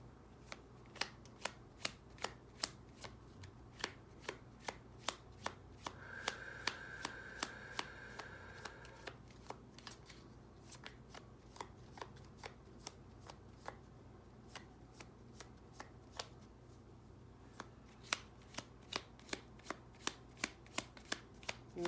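Tarot cards shuffled by hand during a card reading, a steady run of crisp riffling clicks and flutters that keeps going for more than twenty seconds, close and fairly clear, with no talking.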